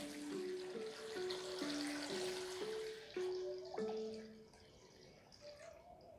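Water splashes and trickles as four cups are poured over dates, vanilla and ginger for plant milk, the pitch rising as the container fills, close by and fairly quiet.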